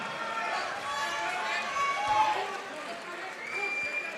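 A roaring crowd cheers and shouts during the final 30 seconds of an MMA cage fight at Eternal MMA 36, a steady, dense wall of noise with a voice talking over it.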